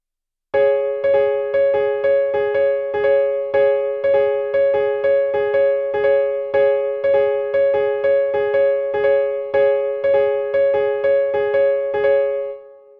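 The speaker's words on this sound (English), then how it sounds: "5 against 6 sounds like this" Two interlocking streams of bright, pitched tones, five against six, pulse steadily in a repeating cross-rhythm for about twelve seconds, with no voices.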